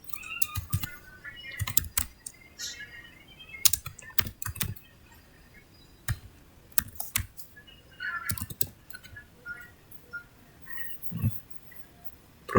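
Irregular bursts of keystrokes on a computer keyboard, close and fairly quiet, with short runs of clicks separated by pauses and no speech.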